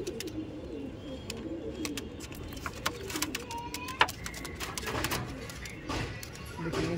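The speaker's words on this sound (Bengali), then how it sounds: "ওকে দেখুন এটা নর পায়রা।" Pigeons, including a male, coo in low, soft, continuous burbles, with sharp clicks and chirps over faint background noise.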